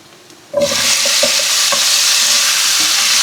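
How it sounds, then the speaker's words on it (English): Potato hitting hot oil with garlic and shallots starts a sudden loud sizzle that stays steady and close, with a few spoon knocks and stirring scrapes early on. "So then you fry that off in the oil with the garlic and onions"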